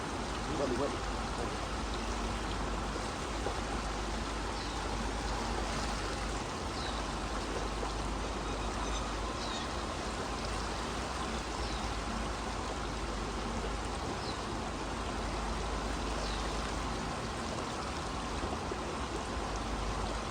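Swimmers in a pool breathe out underwater during a training drill, a steady wash of bubbling and splashing water that fills the whole stretch without a break.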